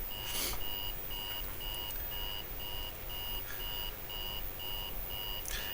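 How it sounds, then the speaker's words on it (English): Repeating electronic alarm from the video game Fear Train: an even, steady string of high beeps about every half second, sounding continuously over a dense noisy rumble with a couple of sharp bursts. "this like alarm screeching actually does, it just builds the tension to such a ridiculous degree"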